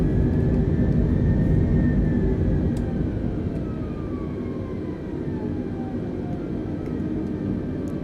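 A steady airliner engine drone from Microsoft Flight Simulator 2020 holds for the whole stretch, with a broad rumble and a faint whine that slowly slides downward, even and unbroken.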